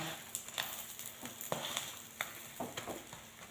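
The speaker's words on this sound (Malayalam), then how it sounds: "ചെറുതീയിൽ വേവിച്ചാൽ മതി" A vegetable omelette cooks in a pan over a low flame, giving a soft, steady sizzle with scattered small crackles and pops, close but fairly quiet and without talk.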